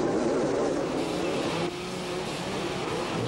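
Motocross motorcycle engines in a race, a loud steady droning roar of racing bikes with shifting pitch, continuous throughout with a faint voice under it.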